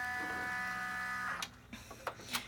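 An embroidery machine hums steadily as it sews a tack down stitch on an in-the-hoop double zipper clutch, then stops, leaving a few soft clicks and taps close by.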